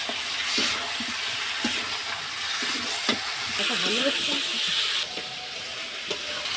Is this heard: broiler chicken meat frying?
yes